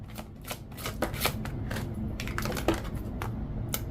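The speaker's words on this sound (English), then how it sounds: "I'm going to go ahead and get the 7 cards, the overall 7 cards on the table real quick" A tarot deck is shuffled and dealt onto a table: close, continuous crisp riffling and flicking of cards with quick irregular snaps throughout.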